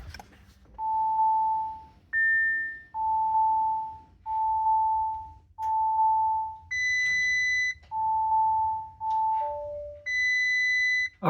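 A 2019 Audi RS5, just reconnected to its battery after an ethanol sensor install, gives a steady series of loud electronic warning beeps. The pure tones change pitch now and then, and two-tone chimes close the sequence.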